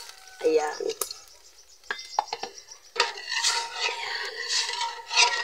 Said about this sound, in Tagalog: ilagay ko na yung munggo mga be